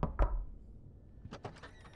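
Knocking on a door in the iPad puzzle game Device 6: a couple of hard thuds, then a later burst of several quick raps, fairly close and loud, with no talk over them.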